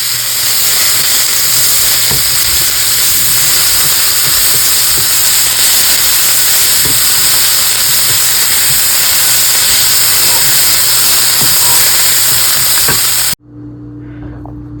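Sliced vegetables for a vegan ramen stir-fry sizzle loudly and steadily in a hot pan, a close, continuous frying hiss that cuts off abruptly near the end, with no voices.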